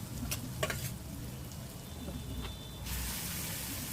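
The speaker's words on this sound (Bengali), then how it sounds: "মশলাগুলো বেশ ভাজা ভাজা হয়ে যাচ্ছে" Ground spice mix with ginger paste and whole cumin frying in a pan for a banana stem kofta curry, a soft steady sizzle with a few scraping stirs, fairly quiet.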